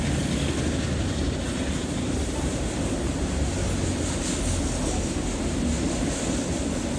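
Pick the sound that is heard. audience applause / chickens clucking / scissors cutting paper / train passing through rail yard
train passing through rail yard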